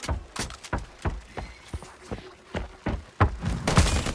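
Gunfire in a video game cracks out as a string of sharp, loud shots at an uneven rhythm, about a dozen bursts, bunching into a denser volley near the end.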